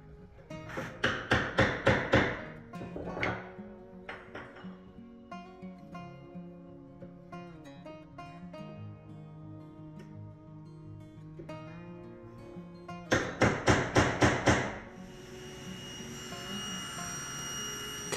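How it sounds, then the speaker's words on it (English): A chisel chops a groove into a wooden cabinet panel with quick, sharp knocks in two tight clusters of strikes. Quieter tonal sound fills the gap between the clusters. "Then I'm gonna come in with a chisel,"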